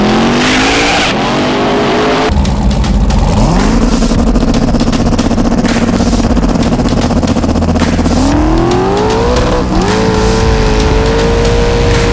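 A race car's engine loud and close, revving hard and accelerating through rising gear pulls, with some tire squeal, during a 2019 racing session.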